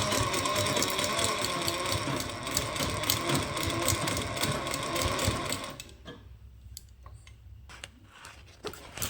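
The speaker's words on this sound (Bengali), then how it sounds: "দুটা মুড়ে এমন করে সেলাই করতে হবে" A sewing machine stitches a folded fabric bag, running in a fast continuous mechanical whir for about six seconds, then stopping, followed by a few scattered clicks and handling noises, close up with no speech.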